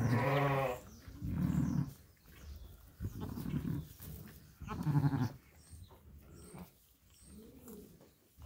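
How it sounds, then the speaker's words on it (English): Young lambs, one of a set of triplets on a farm, bleating close by in a series of repeated calls, some loud and others softer, with a brief pause between each. "Nice lambs."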